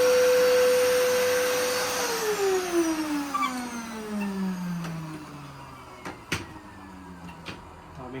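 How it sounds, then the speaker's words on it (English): A vacuum cleaner runs on a vintage Atari Rubis II jukebox, its motor whine sliding down in pitch as it winds down, with a few sharp knocks and clicks near the end. "I've been cleaning with vac"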